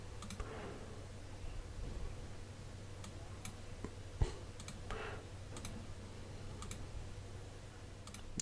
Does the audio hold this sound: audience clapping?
no